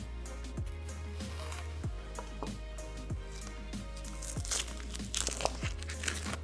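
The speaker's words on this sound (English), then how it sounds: "What you do is you cut off the stemmies, then you peel." Dry, papery onion skin being crinkled and peeled off by hand after the stem ends are cut, a quiet steady crackle with scattered crisp snaps, close and alone.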